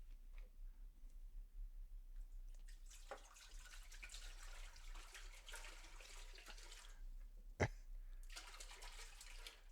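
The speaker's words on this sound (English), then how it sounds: "Let's go pour in roughly half of our water." Water pours into a pot while home-brewing honeydew melon wine, a steady, fairly quiet splashing stream with a brief louder knock near the end.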